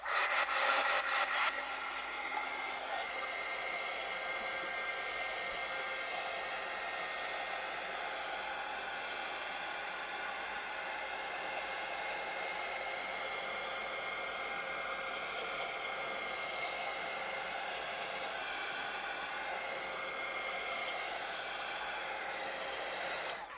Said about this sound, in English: I'm going to hit it with the heat gun real quick, so it's going to make noise.